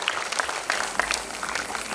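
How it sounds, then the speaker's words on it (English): Applause from a large student crowd welcoming a keynote speaker at a summit, dense steady clapping filling the hall with a few sharper claps standing out. "Give a big round of applause"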